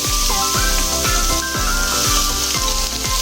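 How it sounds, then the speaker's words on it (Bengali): Spice mixture of chilli powder and salt frying in a pan, a steady close sizzle with continuous hiss and repeated clinks of a spoon stirring. "একসঙ্গে কষিয়ে দিচ্ছি মশলাটা"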